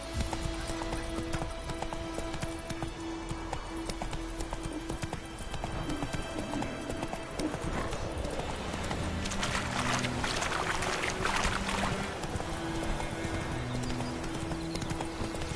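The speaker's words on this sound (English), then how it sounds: "Run, Roach" Hooves clip-clop in a steady galloping rhythm from a horse in The Witcher 3 video game, with game music and effects underneath and no talking.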